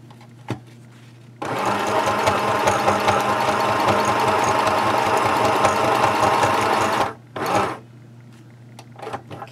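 A sewing machine stitches the short edge of a fabric travel-case belly band, running in one steady, close burst of rapid needle strokes for several seconds, then stopping and giving a brief second spurt.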